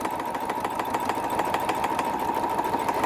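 A sewing machine stitches a large mountain retreat bag, its needle running in a steady, fast mechanical rhythm with repeated clicks over a continuous motor hum, close and fairly loud, with no talking.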